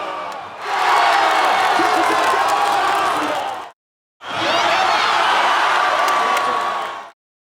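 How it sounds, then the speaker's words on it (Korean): A large street crowd at Gwanghwamun Square in Seoul roars and cheers for the Korean national football team, two loud sustained bursts of shouting separated by a brief silence. "결정적인 순간마다 함성과 탄식이 이어졌습니다"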